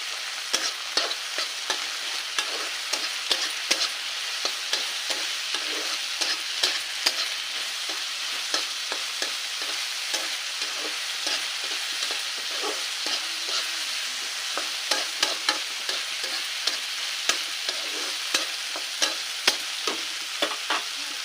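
Eggplant frying in a pan of hot oil gives a dense, continuous crackling sizzle with quick sharp pops scattered throughout, close and steady, with no voices.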